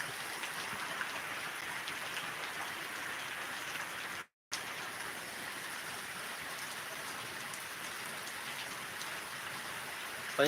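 Heavy rain pours down on an unpaved rural spot, a steady, faint hiss of dense drops that breaks off briefly into silence before resuming.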